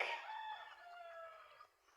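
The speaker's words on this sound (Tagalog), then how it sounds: "Napadyon may manok dere guys oh" A chicken on a small farm gives a brief, faint call that fades after a second or two, heard alone in quiet surroundings.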